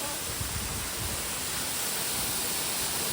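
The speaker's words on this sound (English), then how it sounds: "This is a real waterfall." A muddy, rain-fed waterfall roars as a steady, dense wash of broadband noise, close and constant throughout with no break.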